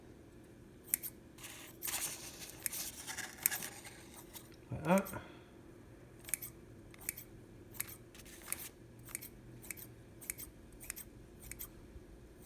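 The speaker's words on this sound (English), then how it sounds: "I use this pair of scissors." Kitchen scissors make quick, crisp snips over seeded bread dough, a dozen or so sharp close cuts in irregular rhythm, with soft handling rustles and a brief spoken comment.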